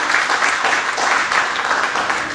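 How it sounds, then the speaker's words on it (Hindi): An audience at a business opportunity program claps loudly and continuously for a couple of seconds, a thick, even wash of applause with no voices over it. "एक बार जोरदार तालियां होनी चाहिए"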